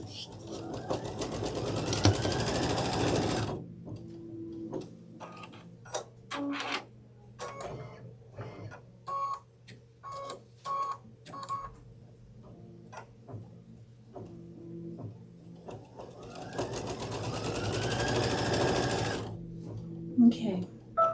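A domestic sewing machine runs a placement stitch on a quilted pillow top in bursts of steady rapid whirring, separated by quieter gaps full of small clicks and handling noises.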